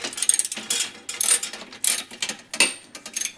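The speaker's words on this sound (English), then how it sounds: "this is gonna unbolt the entire rear caliper and the fender itself" A wrench ratchets on the rear caliper nut of a Schwinn Racer bicycle, with close, crisp clicking bursts in a rapid irregular rhythm, repeated strokes separated by short pauses.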